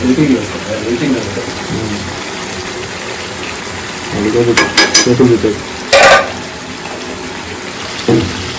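Chicken curry masala frying and being stirred in a pan, giving a loud, continuous sizzle with scraping stirs that bunch into sharp bursts midway and again near the end.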